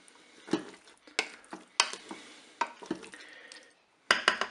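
Potato pieces gently stirred in a Cookeo electric multicooker pot, giving about eight separate scraping, clattering strokes of a utensil against the bowl, close and clear with quiet gaps between them.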